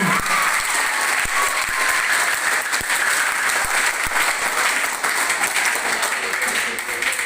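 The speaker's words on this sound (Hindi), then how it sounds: "तो एक जोरदार तालियां सुनना चाहता हूं आप लोगों की।" A crowd applauds loudly and steadily throughout, a dense wash of clapping with a few sharper individual claps standing out.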